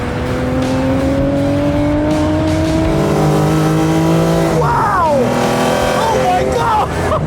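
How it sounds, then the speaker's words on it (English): A Jaguar XJS race car accelerating hard on track, engine note climbing steadily through a gear then dropping on a shift and rising again, loud from inside the cabin with talk over it. "one of the coolest race cars I've ever been in to find out just how quick this XJS is"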